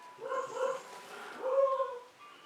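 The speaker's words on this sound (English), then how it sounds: "our dogs are watching other people walk their dogs" Dogs at a house yip and whine in two short bursts while watching passersby walk their dogs, faint and slightly distant, with no talk over them.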